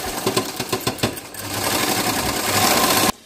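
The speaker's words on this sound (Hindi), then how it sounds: "अभी इसके साइड में एक सिलाई मार के रखेंगे हम।" A sewing machine stitches a blouse seam, starting with a few slow separate needle thumps before speeding into a fast, steady whirring run, close, then stopping abruptly.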